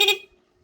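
Horn of a Honda Smash 115 motorcycle with a weak battery, two short honks separated by a gap of silence, close and fairly loud.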